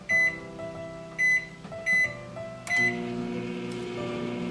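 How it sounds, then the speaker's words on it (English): A microwave oven hums steadily with several short electronic beeps at the start, then a louder hum as it starts running. "let's put our mug into our microwave. Let's microwave it for 60 seconds on high."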